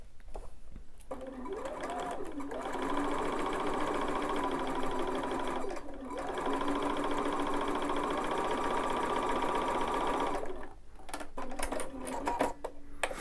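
Sewing machine stitching a flying geese quilt block with Aurifil thread, a close, steady mechanical hum running in long stretches with brief pauses between seams.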